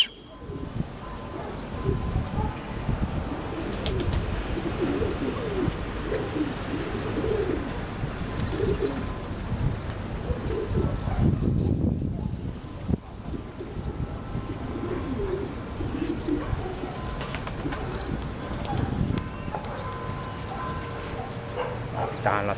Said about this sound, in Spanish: Ya vamos a bajar las palomas.